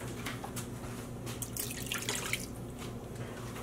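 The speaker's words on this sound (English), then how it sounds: "I am going to add 4 cups of water to our dye bath." Water pours steadily into a dye bath for yarn dyeing, a continuous close splashing and trickling with no one talking.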